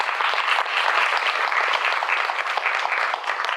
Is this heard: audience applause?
yes